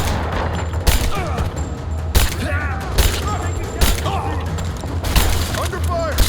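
Gunfire from enemies opening fire in Rise of the Tomb Raider: repeated loud bursts of shots at irregular intervals, with shouting voices and steady combat noise in between.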